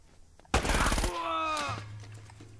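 Automatic gunfire in the video game Uncharted: Drake's Fortune: one loud, close, rapid burst lasting about half a second, followed by ringing tonal tails and a low steady hum.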